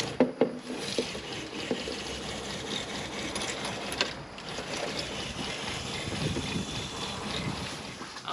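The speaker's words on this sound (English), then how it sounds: "it'll spray out good jets on the side to flush this thing out real good" A spray nozzle with its tip removed jets water out the sides to flush a coil, dirty water draining from the bottom; a steady, close broadband hiss of rushing spray runs the whole time with no talking.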